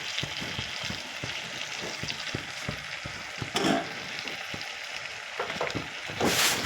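Slit green chillies hit hot oil in a curry base with ginger-garlic paste, giving a steady close sizzle of frying. Soft stirring taps recur through it, with a couple of louder hissing flare-ups.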